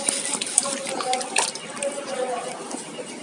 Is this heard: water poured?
yes